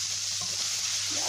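Minced meat seasoned with black pepper, coriander, cumin and salt sizzles steadily in a pan while being stirred, a dense, even frying hiss heard close up without a break.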